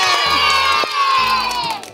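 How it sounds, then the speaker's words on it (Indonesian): Children in a kindergarten storytelling session shouting and cheering together, loud and close, with sustained high-pitched voices over a brief burst of clapping. "Tepuk tangan semuanya bilang ye."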